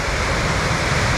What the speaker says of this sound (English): There's a really powerful waterfall.